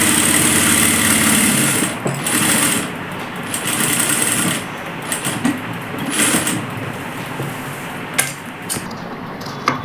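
Sewing machine stitching the seam of a young girl's kurta, a loud close continuous mechanical whirr with brief pauses and restarts.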